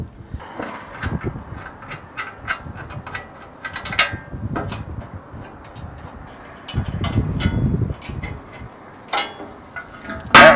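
A bolted shield is being removed from a steel Arrowquip Q-Catch cattle head gate and squeeze. Close bursts of ratcheting clicks mix with metallic clanks and rattles, loudest near the end, with no one speaking.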